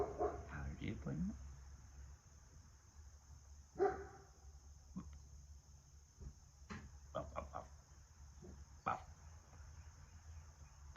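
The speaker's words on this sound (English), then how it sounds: "I found the best thing for Thor, the barking dog next door." A dog barks a handful of times at irregular intervals, sharp and somewhat distant, with a voice heard briefly near the start.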